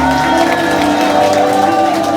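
Loud crowd applause with cheering voices mixed in, a continuous wash of clapping filling a hotel event room during a cake cutting at a book concert.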